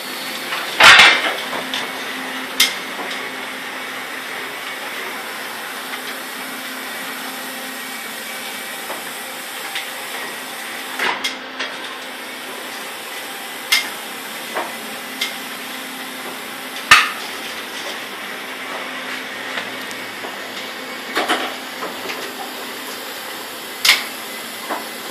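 Motor test on a Sega Galaxy Force II Super Deluxe arcade cabinet, with a steady mechanical whir and hum throughout and scattered sharp knocks and clunks, loud and close.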